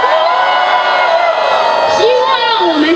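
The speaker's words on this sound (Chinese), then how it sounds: "来，我们给自己一个欢呼" A crowd lets out a brief burst of cheering and whooping, loud and sustained for a few seconds.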